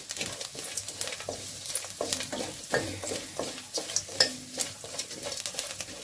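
Potatoes fry in a pan while a utensil stirs them, with repeated scraping strokes against the pan over a soft, steady sizzle, close and without talk.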